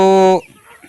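A single drawn-out call from a chicken with a severe respiratory infection and sticky mucus, loud and close, breaking off abruptly into faint background noise.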